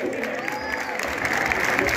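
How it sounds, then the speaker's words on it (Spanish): An audience claps loudly and continuously at the Fiesta del Agua Mineral in Santo Tomás, Neuquén, a close, dense wall of applause filling the whole moment without a break. "Fuerte el aplauso nuevamente."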